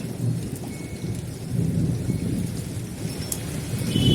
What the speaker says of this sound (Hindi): गाइस बारिश अभी भी नहीं रुकी है